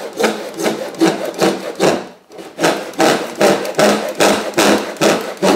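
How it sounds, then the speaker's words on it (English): Hand saw cutting through a pipe clamped loosely in a vise while the pipe is slowly rotated, a steady rhythm of about twelve loud rasping strokes with one brief pause near the middle. "as you're doing the cutting, just rotate the pipe very slowly."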